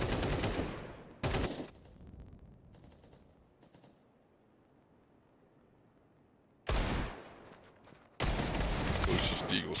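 Desert Eagle shots in a Counter-Strike match ring out as sharp, loud blasts, one burst at the start and two more near the end, separated by a quieter stretch of faint game ambience.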